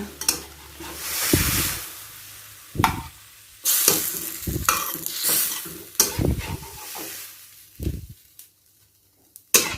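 Shredded cabbage with fresh shrimp and carrot is stir-fried in a pan, giving bursts of hot sizzling and scraping stirring strokes in an uneven rhythm, close up with no talking.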